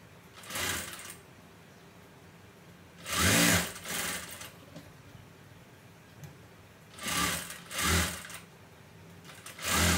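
A sewing machine stitches a boat neck blouse in short separate bursts, three or four clusters of fast rattling runs with quiet pauses between, close and fairly loud.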